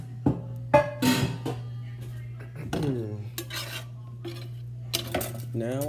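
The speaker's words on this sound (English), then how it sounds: "put the pan immediately in the sink" An empty egg pan is set down in a sink with metallic clanks and scraping rubs, several distinct knocks spread over a few seconds against a constant low hum.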